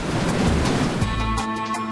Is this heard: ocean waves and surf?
yes